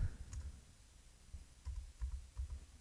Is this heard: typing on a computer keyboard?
yes